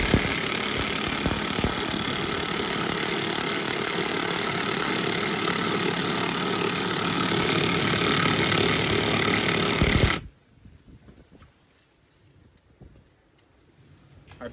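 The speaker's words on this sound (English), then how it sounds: "Hyper Tough half-inch impact high torque, fully charged, versus Hercules Ultra Torque" Cordless half-inch impact wrenches, a Hyper Tough 20V high-torque model against a Hercules Ultra Torque, both on fully charged batteries, hammer loudly and continuously for about ten seconds before cutting off abruptly into near silence.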